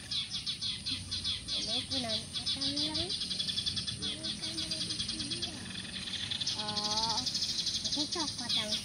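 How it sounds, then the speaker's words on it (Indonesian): Birds calling in a rice paddy, repeated chirps and rising whistles over a steady rattling insect-like drone, with a voice talking over them. "Oh, penampakan makin banyak burungnya."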